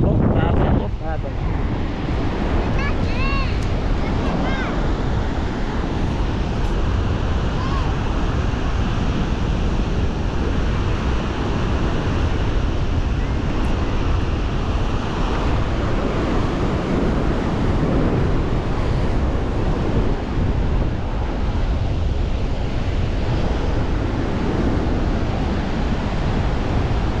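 Surf and waves at a crowded beach in Barra dos Coqueiros, a steady broadband wash of breaking water heavily mixed with wind buffeting the microphone, constant and loud throughout with faint voices underneath.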